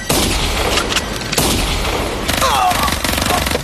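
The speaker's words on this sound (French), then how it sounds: "C'est des coups de feu." Gunfire in a crime drama scene: a few sharp, loud broadband cracks spaced across a few seconds, with a noisy, busy background and a brief tonal whine near the end.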